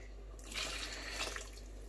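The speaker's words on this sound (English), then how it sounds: "Also going to go in with a can of boiling water." Boiling water tipped from a can into a pan of beef rendang makes a brief, soft splashing pour that starts after a short quiet moment and fades within about a second and a half.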